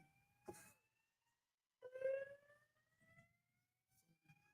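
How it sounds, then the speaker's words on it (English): A fire alarm sounds in a hall after a basketball press conference, faint electronic tones rising in pitch with short bursts and gaps between them. "Somebody pulled the fire alarm."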